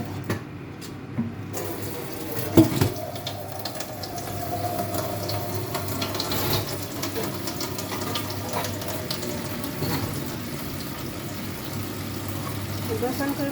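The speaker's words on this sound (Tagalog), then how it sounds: "Tapos, hugasan ko yung pork belly" Pork belly being washed under a running kitchen tap, a steady faint splash and trickle of water with occasional clinks and handling noises, a voice talking quietly over it.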